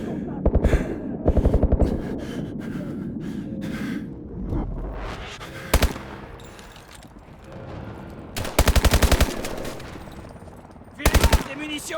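Rapid machine-gun bursts crackle in the video game Call of Duty Advanced Warfare, several short sharp volleys spaced apart, with heavy breathing and gasps in the gaps between.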